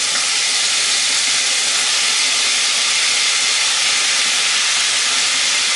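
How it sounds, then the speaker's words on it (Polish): Bacon with onion partly frying in a pan with a spoonful of added fat, a loud, steady broadband sizzle that holds unbroken throughout with no talking. "boczek cebulą częściowo podsmażamy i później dołożymy pokrojone mięso."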